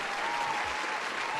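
A short burst of audience applause, an even, moderately quiet patter of many hands clapping together with no voices rising above it.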